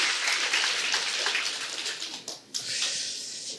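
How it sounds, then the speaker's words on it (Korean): A church congregation at a Sunday worship service claps in a steady, dense patter of applause that dips briefly and resumes, moderately loud with no talking. "성도님들이 진심으로 영광의 박수를 쳤어요."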